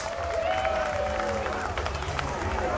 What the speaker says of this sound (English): Please give them a rousing hand of applause.